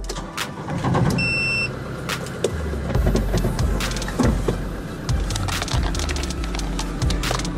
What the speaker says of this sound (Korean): 우렁찬 구형 봉고의 엔진 소리 들려드릴게요.